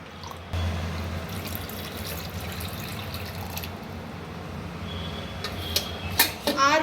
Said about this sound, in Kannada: ಅದಕ್ಕೆ ಎಷ್ಟು ಬೇಕೋ ಅಷ್ಟು ನೀರು ಹಾಕಿ ಒಂದು 5-6 ವಿಜಿಲ್ ಹೊಡಿಸ್ಬೇಕು